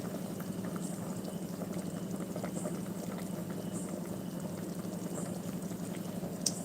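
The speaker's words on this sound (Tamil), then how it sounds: "சிக்கன் குழம்பு கொதிக்குது" Steady low bubbling and simmering of a pot of chicken curry on the boil, continuous and close, with faint clinks near the end.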